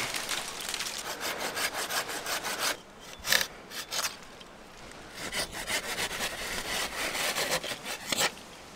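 A hand saw cuts through tree branches for catapult forks with a fast, rasping rhythm of close, loud strokes, pausing briefly midway before resuming steadily.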